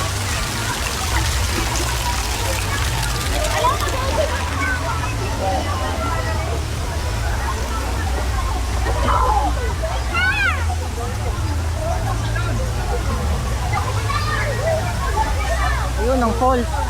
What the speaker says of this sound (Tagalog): Ayun ang falls.